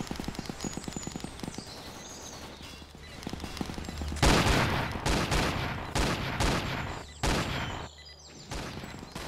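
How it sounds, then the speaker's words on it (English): Heavy automatic cannon fire in a video game, in rapid bursts, loud and booming, growing more intense partway through with short pauses between volleys. "This poor man's still under the auto cannon."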